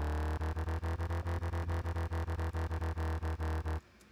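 A dry synthesizer plays a repeated chord in a steady, choppy rhythm with clean gaps between hits, then stops abruptly.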